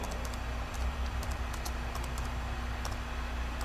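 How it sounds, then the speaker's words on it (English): Keys tapped on a computer keyboard to type a search into an electronic car service manual, a quick run of light clicks over steady low background hum, fairly close and without any talking. "I can just type that in"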